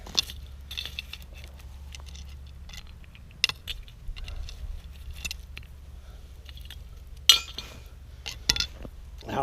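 A metal pot lid lifted off a pot of boiling water over a campfire while cooking mac and cheese, giving a few sharp metallic clinks and clatters over a low fire rumble.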